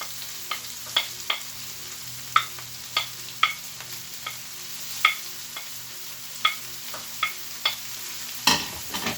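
Cooked cauliflower is stirred into sizzling bacon and vegetables in a hot pan, with a steady close frying hiss and repeated soft scraping knocks of the stirring utensil, plus one louder clatter near the end.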